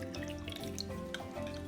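Liquid poured into a container during a toy chemistry experiment, a steady close trickle with bubbly, gurgling splashes that continue throughout.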